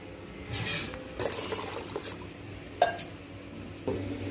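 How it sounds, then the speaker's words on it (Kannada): Water is poured into a pot of cooking rice and lentils with spinach and turmeric in a kitchen, giving faint splashing and trickling in bursts, with one sharp clink partway through. "ನೀರು ಸ್ವಲ್ಪ ಜಾಸ್ತಿ ಹಾಕ್ಕೋಬೇಕು"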